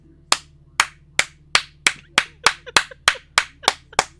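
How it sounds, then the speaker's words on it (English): Hands clap twelve times in a steady, even rhythm of roughly three claps per second, each one sharp, close and loud, with a short ringing tail and no voices. "You hear clapping coming from Grandpa"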